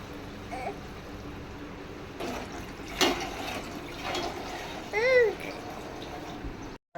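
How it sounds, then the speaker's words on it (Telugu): Water pours and splashes into a pan of palak paneer curry in a few bursts, with a gurgling swirl near the end; no one speaks. "ఇప్పుడు దీంట్లో వాటర్ పోసుకుందాము."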